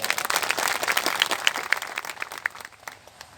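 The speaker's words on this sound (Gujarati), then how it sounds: "એકવાર એ પરિવારને તાળીથી વધાવો જરા જોરદાર." Audience at a village satsang gathering breaking into a burst of hand clapping, dense and lively at first, then thinning and fading toward the end, heard from within the crowd.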